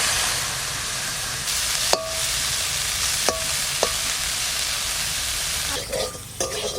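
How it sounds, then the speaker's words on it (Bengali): Small fish frying in oil with pumpkin flowers give off a steady, loud sizzle, broken by a few sharp clinks of a spatula against the pan; the hiss thins briefly near the end. "কুমড়ো ফুল দিয়ে মাছ দিয়ে ভাজা হয়ে গেছে, লাল করে ভেজে নিচ্ছি"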